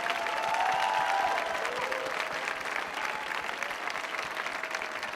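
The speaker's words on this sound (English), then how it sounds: "one more round of applause for the original Baltimore cast of Voices of Carmen" An audience gives sustained, even applause at a live stage performance, with the clapping filling the hall and faint voices and cheers underneath.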